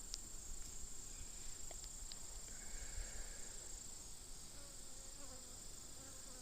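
Honey bees buzz steadily on a frame pulled from a backyard hive carrying pollen and eggs, a continuous close, fairly quiet drone with no talk.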